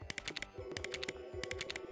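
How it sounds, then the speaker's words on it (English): Ants in a Jimmy Neutron video game produce rapid, dry clicking in quick irregular bursts, a short repetitive game-audio loop over a faint tonal hum. "The pointless, like these ants clicking."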